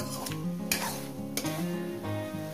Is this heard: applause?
no